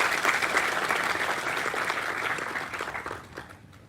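An audience at a white coat ceremony breaks into sustained applause, a dense, steady wash of clapping that holds strong before gradually thinning and fading toward the end.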